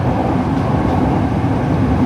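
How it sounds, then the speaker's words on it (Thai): Bangkok's Red Line electric train runs between Bang Sue and Rangsit: a loud, steady, dense rumble of the moving train, heard from close by with no pauses. "โอ้รถไฟสายสีแดงก็แรงอยู่นะ"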